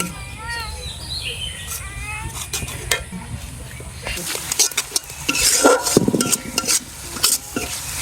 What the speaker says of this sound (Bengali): জল দিয়ে দিলাম আর মশলাটা একটু কষায়